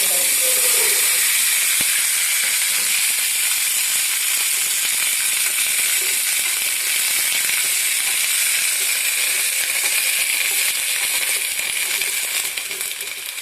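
Loud, continuous hissing sizzle of wet gooseberries hitting a hot steel pan, steady and close with scattered crackles throughout.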